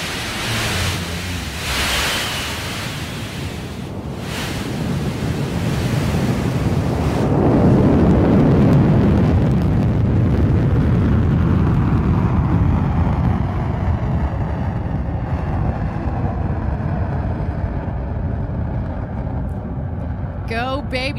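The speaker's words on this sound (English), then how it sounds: "Listen to that BE-3 engine roar." New Shepard rocket with its BE-3 engine at liftoff in West Texas, a loud broadband roar building and sustaining with heavy rumble and wind buffeting, distant but powerful, slowly fading toward the end.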